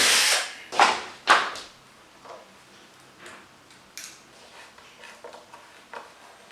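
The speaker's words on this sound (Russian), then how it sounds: "Досверливаю последнее отверстие." A power drill finishing the last hole for cam-lock fittings while assembling a hallway mirror shelf, heard as two or three short loud bursts near the start, then fainter intermittent whirs and taps.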